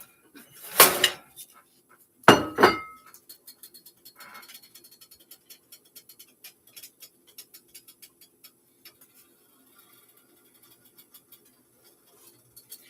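An omelette is flipped in a frying pan, giving two quick metallic clatters close by, then a long run of faint, sparse ticks and crackles in a quiet kitchen.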